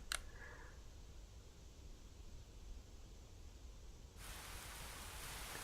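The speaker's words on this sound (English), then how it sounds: "A gentle rain begins to fall" Gentle rain falls in the video game Fate/Extra as a steady, soft hiss, quiet at first and then growing noticeably fuller and brighter in its final seconds.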